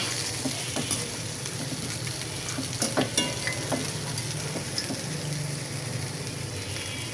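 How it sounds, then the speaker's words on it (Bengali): Rice stir-fried in a pan with soy sauce, green chili and ground pepper gives a steady sizzle broken by scraping, clinking stirring strokes and small splashy pops, moderately close and without speech. "এখানে এগুলাও একে একে ভেজে নিচ্ছি"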